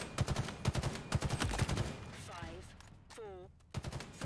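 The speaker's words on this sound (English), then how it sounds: "BR, just fire it at a reasonable fire rate" Battle rifle in Halo Infinite fires several quick three-round bursts, loud and punchy, followed by softer whooshing and sweeping game effects.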